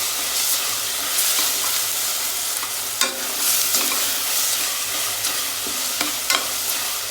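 Ground spice paste with green chillies frying in oil for a mushroom biryani, a steady close sizzle broken by scraping stirs and occasional clinks of a spoon against the pan, with no talking.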